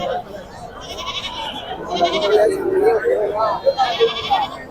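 Large male goats bleat repeatedly in wavering cries at the Pebbair livestock market, some close and loud, mixed with people talking nearby.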